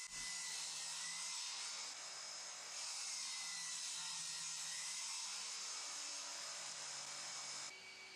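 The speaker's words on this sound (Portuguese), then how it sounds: "Quis cortar um sulco em V, então usei a serra de bancada para isso." A table saw cuts a V groove in a piece for a rebar fence jig, giving a steady, high-pitched whine that stays loud and continuous, then drops off near the end.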